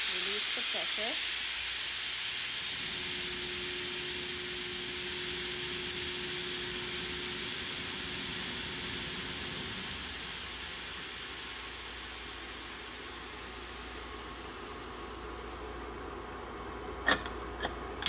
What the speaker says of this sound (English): I'm gonna shut it off, release the pressure.